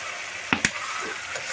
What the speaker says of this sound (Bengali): মশলাটা ভাজা হয়ে গেছে, এখন ছেড়ে দেবো কাঁঠালটা